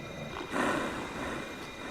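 Wolf Link barking in Zelda: Twilight Princess, a short growly game-creature bark with a roaring, rough quality that swells briefly then fades under steady background game ambience.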